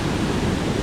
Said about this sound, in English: here we are at the great secret waterfall